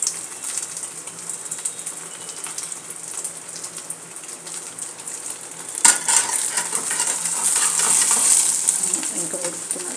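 Onions and green chillies sizzle in a spoonful of oil in a pan as an omelette is made, a steady close frying hiss with a spoon scraping and stirring that swells toward the end.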